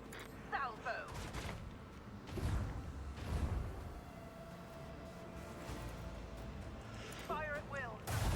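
A salvo of artillery fires in a chaos-themed strategy video game, with booming shots and thuds over a continuous battle din while someone speaks over the action.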